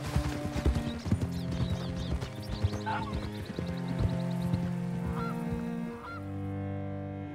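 Steady clip-clop of horse hooves trotting in Red Dead Redemption 2, with honking goose calls and a whinny layered over the rhythmic footfalls.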